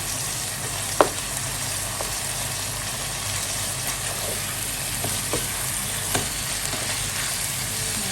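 Beef frying in a pan until browned for a creamy beef and mushroom dish, a steady close sizzle with a few sharp clicks of stirring or spatula taps, no voices.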